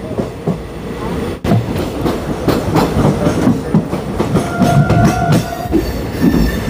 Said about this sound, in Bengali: দমদম জংশন স্টেশন থেকে 16 কিলোমিটারের যাত্রা শেষ করে আমরা এসে পৌঁছালাম ব্যারাকপুর স্টেশনে।